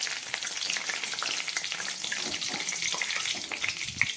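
Two or three bay leaves dropped into hot oil in a wok where fish was just fried, giving a bright, steady crackling sizzle close up, no talk.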